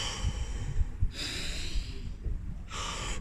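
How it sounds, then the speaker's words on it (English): Pranayama breathing through one nostril during a morning breathwork routine: two strong, airy breaths, one early and one near the end, over low background rumble. "Pranayama inside that nostril."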